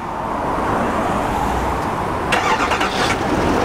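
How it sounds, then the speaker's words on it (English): A 2018 Chevy diesel pickup with a Duramax engine and Allison transmission cranks over and catches, its start rising briefly above a steady roadway rumble, heard up close with no talking. "Let's go ahead and crank her up"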